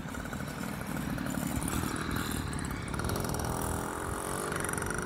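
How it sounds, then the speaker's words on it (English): A motorized bike engine buzzes steadily and loudly throughout, its drone rising slightly as it runs close by with no talk over it. "Motorized bike."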